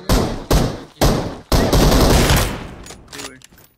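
Loud bursts of automatic gunfire in Fortnite, with several rapid volleys separated by brief gaps and then a longer sustained burst that trails off, with a voice faintly mixed in.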